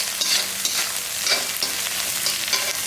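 Snake gourd frying in a pan with salt and turmeric: a close, continuous sizzle with soft stirring scrapes recurring every second or so.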